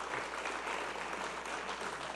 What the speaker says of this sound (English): You all deserve a round of applause for yourselves.